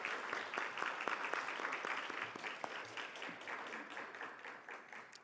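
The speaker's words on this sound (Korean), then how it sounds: "다시 한번 박수로 격려하겠습니다." Congregation applause during a Sunday online worship service at a Korean church, a steady, fairly faint patter of many hands clapping that gradually tapers.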